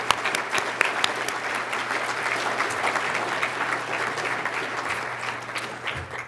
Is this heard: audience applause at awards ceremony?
yes